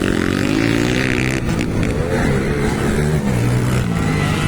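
Enduro motorcycle engines rev hard and steadily during a local race at Pangantukan, Bukidnon, a loud continuous drone with rising and falling pitch throughout, no voices.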